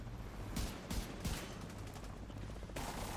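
Gunfire in The Division 2, several short bursts of automatic fire cracking out in quick succession against a low, steady game background, moderately close but fairly quiet overall.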